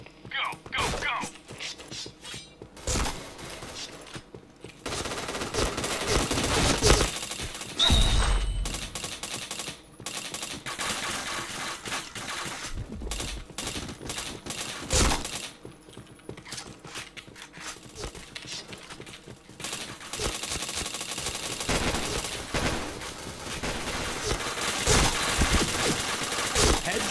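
Gunfire rings out in the Point Blank shooter game, with bursts of rapid automatic fire and single shots repeating throughout alongside clicks and mechanical effects, and a voice calling out now and then.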